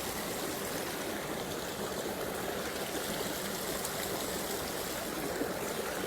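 A stream of water flows over rocks outdoors in a steady, continuous broadband rush. The sound stays close and even from start to end, with no voices.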